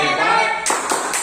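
An Indonesian training session breaks into a "tepuk hebat" clapping chant for Bu Endang. A voice is heard first, then a few sharp, close group claps land in quick succession.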